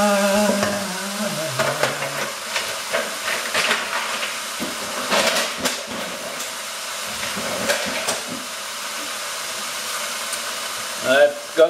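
Vegetables grilling in oil in a pan for paella, a steady hiss and sizzle running throughout, with clinks and scraping from turning the food and faint voices in the background.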